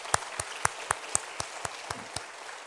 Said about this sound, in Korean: 우리 감사와 또 격려하는 박수 한번 드리겠습니다